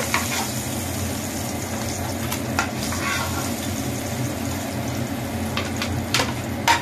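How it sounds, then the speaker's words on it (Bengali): Steady, dense sizzling of fish frying in hot oil, close and continuous, with occasional pops and scraping of a utensil. "মাছগুলো লাল লাল করে ভাজা হয়ে গেছে"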